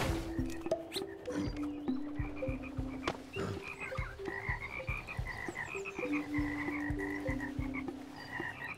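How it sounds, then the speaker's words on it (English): Repeated froggy croaks in the puzzle platformer Toki Tori 2, a steady run of short, loud calls in a game scene with no talking. "Don't kill the frog."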